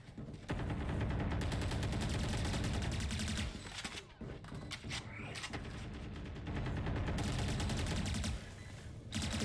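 Sustained rapid gunfire from the Valorant video game, dense bursts of shots rattling almost continuously with a brief lull in the middle, loud and close.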